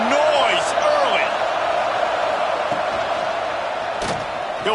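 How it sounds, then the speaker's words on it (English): Dense, steady roar of a packed football stadium crowd at a Texas vs Arkansas game, loud and continuous throughout with a few sharper swells, under a broadcast commentator's voice. "This crowd bringing the energy and noise early."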